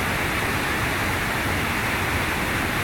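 The Yaremcha waterfall in the Carpathians gives a steady, broadband rushing roar of falling water that stays even and continuous throughout, with no voices.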